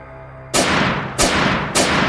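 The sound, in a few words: ghost gunshots sound effect in an audio drama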